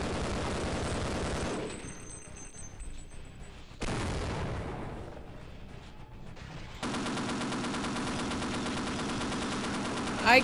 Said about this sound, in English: I can't see where I'm shooting.